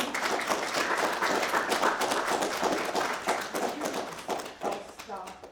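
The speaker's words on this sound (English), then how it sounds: "Clap for Kathy" An audience applauds for a woman named Kathy at a donor mom's talk, with dense sustained clapping that thins out near the end while voices talk over it.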